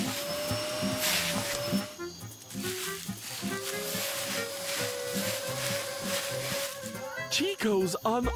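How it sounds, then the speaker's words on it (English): A cartoon vacuum cleaner hidden in grass whirs with a steady motor drone and rhythmic whooshing pulses, loud and continuous, ending in a few squeaky comic sound effects. "Chico's unaware of the vacuum cleaner that's, Hiding in the grass."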